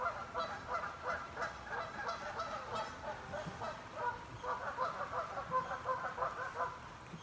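A flock of geese honks repeatedly outdoors in nature, the calls overlapping in irregular bursts at a moderate distance without any talking.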